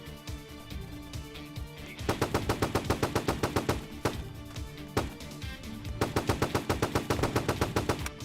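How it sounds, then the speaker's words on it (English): Roblox video game gunfire rattles in rapid repeated bursts, loud and sharp, with short pauses between volleys. "Sniper rifle."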